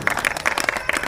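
Audience clapping at a Hindu religious gathering with devotees, a dense burst of many hands applauding together, close and fairly loud, with no talking.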